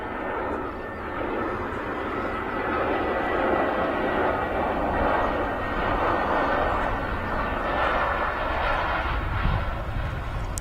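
An aircraft on runway 2 at Manchester Airport, producing a loud, steady jet-engine roar that holds for the whole stretch without pause.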